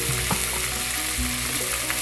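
Dried loitta fish (shutki) frying in about three tablespoons of oil over medium heat, a steady close sizzle with scraping stirs from a spatula throughout.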